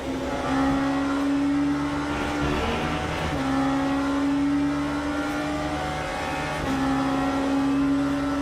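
A race car engine in the racing game Le Mans Ultimate holds a loud, steady droning whine, with brief pitch dips as the driver lifts and coasts into corners, and no talking.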